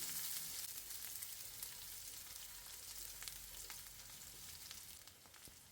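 Chopped onion sizzles with mustard seeds and dried chillies in hot oil, a dense, even crackling hiss that holds steady and close throughout, with a few faint pops and no voices.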